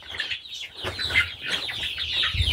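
A flock of laying hens clucks in short overlapping bursts, a restless farmyard chatter of several birds close by, rising and falling with no speech.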